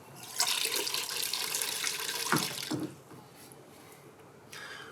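Water runs from an RODI filter system in a steady close hiss with a couple of brief splashing bursts, then quieter flow, with no talking.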